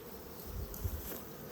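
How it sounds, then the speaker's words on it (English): Honey bees crowd the entrances of backyard hives, a faint, continuous buzzing drone without any talk. "There's a whole bunch of bees"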